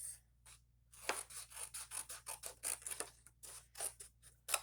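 Paper is cut with scissors up close, a rapid run of crisp, rhythmic snips and slicing strokes in a quiet room.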